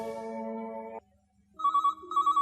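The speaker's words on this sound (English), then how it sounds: "Just then, the telephone rang." A telephone rings in a quiet indoor hallway, a loud repeating electronic trill that starts, pauses for about half a second, then sounds again in short pulsing bursts, with no talking.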